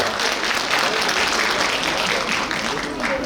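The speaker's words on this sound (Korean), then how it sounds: "뜨거운 박수 부탁드리겠습니다" Warm audience applause for a pianist at a Korean book concert, a dense, steady roar of many hands clapping at close range for a few seconds.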